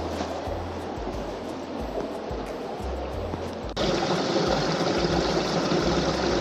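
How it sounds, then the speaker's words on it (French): Constant rushing water of a small waterfall on the Brague trail, Côte d'Azur, close and steady, with a faint low engine-like hum in the background. "Regardez cette petite cascade"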